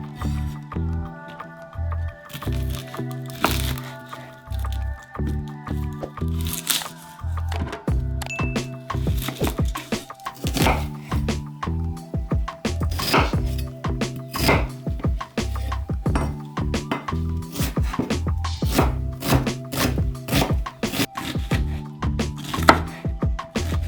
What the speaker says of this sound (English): Start with finely chopping the mushrooms and half of onion.